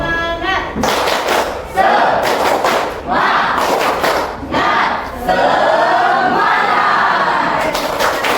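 A classroom group stands and performs a rhythmic spirit clap, loud patterned bursts of claps and thumps together with shouted group chanting, in several close, energetic waves.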